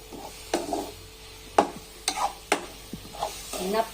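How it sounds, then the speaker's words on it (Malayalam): Mushroom masala stirred in a frying pan, a spatula scraping and clacking in several distinct strokes over a steady low sizzle, close and fairly loud with no talking. "നന്നായി ഇളക്കി കൊടുക്കാം"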